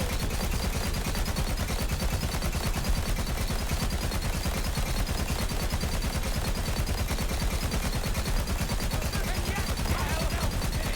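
Automatic gun in Borderlands 3 firing without pause, a dense, loud stream of shots lasting the whole stretch, with constant game noise layered underneath.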